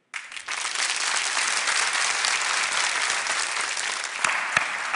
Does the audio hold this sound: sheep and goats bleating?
no